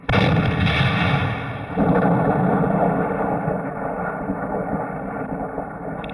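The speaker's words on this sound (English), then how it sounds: "the gun crew shoots as many as 50 rounds before their job is done" An artillery gun, fired by its crew in a snowy setting, gives one booming report that rolls into a long, loud, broadband rumble, with a second surge of noise shortly after, heard outdoors without voices.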